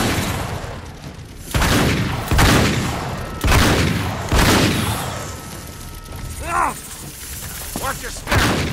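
Gunfire in a PS3 video game, bursts of loud rapid shots and booming impacts in several waves over a constant rumbling game soundscape, with a few whooshing effects near the end.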